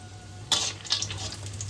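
Lentil dumplings (bori) frying in hot mustard oil in a kadai, heard as a close, steady sizzle with bursts of crackle that swell when the pieces go in.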